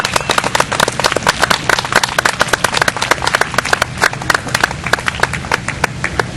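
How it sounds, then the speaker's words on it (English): An audience at a community emergency preparedness fair breaks into steady applause, dense rapid clapping from many hands that holds at a lively level throughout with no speech over it. "a big round of applause"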